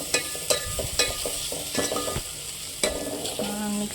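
Chopped tomatoes stirred in a frying pan with a spoon, sharp scraping knocks against the pan every half second or so over a steady sizzle, close and alone with no voices.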